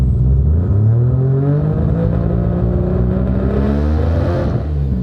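A newly built 1000hp car engine revving up toward 4,000 RPM, a loud, close, rising mechanical roar that climbs steadily in pitch, with no voices over it.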